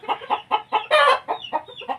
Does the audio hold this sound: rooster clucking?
yes